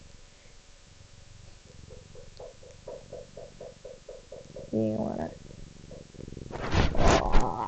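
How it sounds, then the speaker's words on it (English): Close, rhythmic cat purring pulses steadily at low volume, then a person speaks briefly and a louder burst of sound follows at the end. "Oh, I know you're purring."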